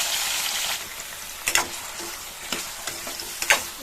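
Tomato frying in a pan for cucumber chutney gives a soft steady sizzle, broken by a few sharp taps and scrapes of stirring, close and moderately quiet, with no talking.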